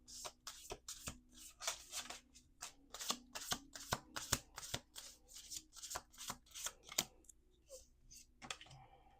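Rapid riffle-shuffling of playing cards, crisp bursts of fluttering clicks repeating in quick succession with short pauses between shuffles, close and clear.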